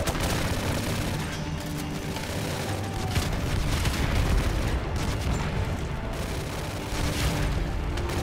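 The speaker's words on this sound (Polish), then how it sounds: "No ładne wybuchy, eksplozje, wszystko na raz." Dense, continuous barrage of explosions and rapid gunfire from Call of Duty: Modern Warfare Remastered, booming and crackling together with no letup.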